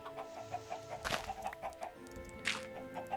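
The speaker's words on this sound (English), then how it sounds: "Let's try to get some chickens from these eggs. Oh, we got one!" Minecraft chickens cluck in a run of short, regular clucks, with a louder burst partway through. The sound is clear and close, with no talking.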